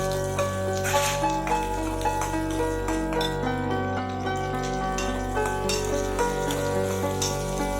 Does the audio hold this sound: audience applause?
no